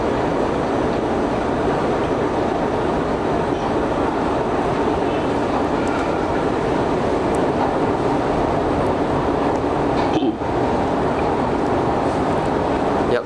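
A train rumbles steadily and loudly through an underground platform at Malmö Central Station, a continuous heavy roar with a brief clatter near the end.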